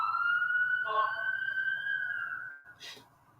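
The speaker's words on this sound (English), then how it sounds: "You see, the siren said yes." A wailing emergency vehicle siren sounds outside, one long steady tone held for about two and a half seconds, then cutting off. A brief noisy burst follows, with a faint murmur of voices underneath.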